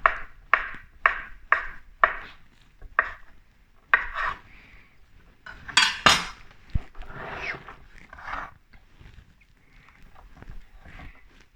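A knife cuts vegan hot dog sausages on a board for mac and cheese. A quick run of evenly spaced chops comes first, then slower, irregular cuts and clatter.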